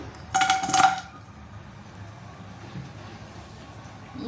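Jaggery drops into a metal pan with ghee for sesame chikki, a brief clattering scrape and clink of metal up close, then quiet kitchen sounds.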